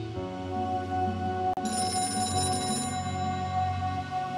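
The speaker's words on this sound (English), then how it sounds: "That phone is about to ring." A telephone rings in the Gray Matter video game, a bright repeating ring layered over a dense, continuous musical and ambient game background, steady and loud with no talking.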